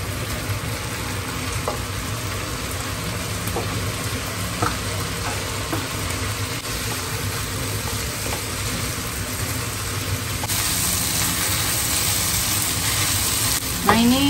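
Tempeh filling for combro fries in a pan with a steady, close sizzle and faint stirring scrapes, while low background rumble runs underneath.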